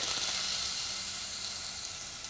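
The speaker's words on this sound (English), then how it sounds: "Now the red pepper are sweet, they are a bit softer, much softer in fact, I'm going to put a bit of fish stock." Fish stock poured into a pan of softened red peppers sets off a loud, steady sizzle and steamy hiss that fades slightly as it settles, with no voices.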